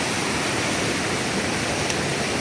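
A river swollen by nonstop rain rushes fast, giving a steady, dense, loud roar with no pauses.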